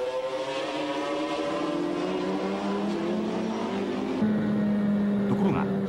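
GT race cars, Supras and a Pulsonic Skyline, racing at Fuji in a 1996 All Japan GT Championship round, with loud sustained engine drones whose pitch rises and shifts as the cars pass, continuous throughout.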